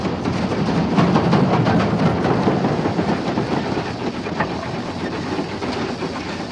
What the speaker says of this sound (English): After leaving Calton Tunnel, Maude accelerates towards Portobello Junction.